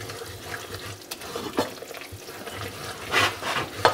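A roux of flour and oil cooks in a pan, stirred with intermittent scraping strokes over a soft, close sizzle.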